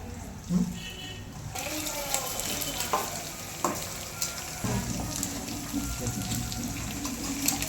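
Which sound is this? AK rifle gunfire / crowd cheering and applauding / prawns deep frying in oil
prawns deep frying in oil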